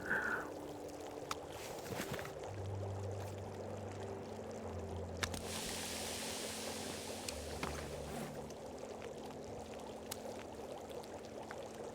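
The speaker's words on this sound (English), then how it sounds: "Drink some water" Water is drunk in The Long Dark: a soft, brief sloshing and gulping swell rises over a faint, sustained low musical drone and quiet ambience.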